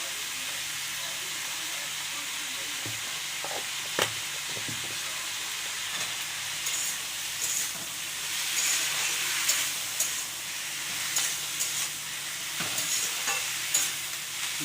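Capsicum with salt frying in a pan, a steady close sizzle and hiss running throughout with occasional stirring knocks and scrapes.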